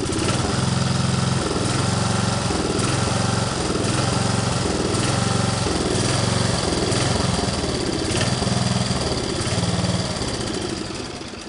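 An 8hp lawn mower engine running on HHO dry cell hydrogen supplement, a steady loud close chugging idle with a rapid regular pulse, no talk.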